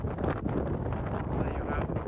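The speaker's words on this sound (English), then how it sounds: "Stand up here, it's so windy." Strong wind buffets the microphone on a coastal hilltop above the sea, a loud, rough, continuous roar with gusty surges over the short stretch.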